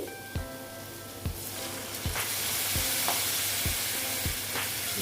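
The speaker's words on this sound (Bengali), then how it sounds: "এবার আমি এটাকে ভালো মতন ভেজে নেব মানে কষিয়ে নেব" Chopped banana stem with turmeric sizzles in a pan, broken by about six sharp spatula scrapes and knocks at a steady pace, with a constant frying hiss underneath and no talking.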